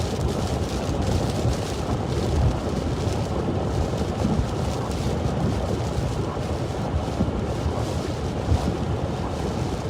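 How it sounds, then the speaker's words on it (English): Strong storm wind buffets the microphone outdoors during a storm chase in Iowa, a loud, continuous roaring rush with no break and nobody speaking. "Wind out here is crazy right now."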